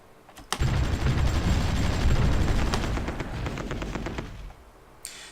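Artillery fire in the war strategy game Supreme Ruler Ultimate, heard as a loud, dense barrage of booming blasts with rapid crackling reports that carries for about four seconds, fades out, and ends with one sharp crack.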